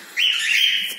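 One pet bird in a cage gives a single near, bright, high warbling chirp lasting most of a second, with nothing else heard.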